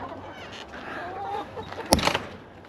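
Farmyard chickens cluck softly in a coop, a low mutter of fowl sounds with a brief louder burst near the end.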